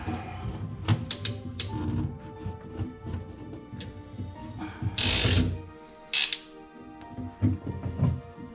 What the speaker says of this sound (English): This PEX tool tightens down these crimp rings.